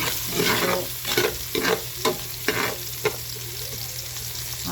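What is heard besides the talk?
garlic and onion sautéing for dinuguan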